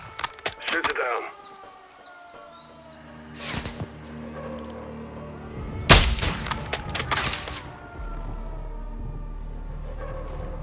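Gunfire in a Call of Duty Modern Warfare II campaign battle: a few scattered shots, then one loud sharp blast followed by a quick ringing burst of rounds, set against background hum, with soldiers talking.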